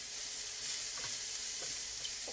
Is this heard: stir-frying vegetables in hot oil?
yes